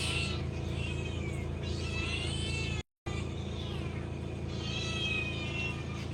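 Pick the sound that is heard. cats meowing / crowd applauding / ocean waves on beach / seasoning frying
cats meowing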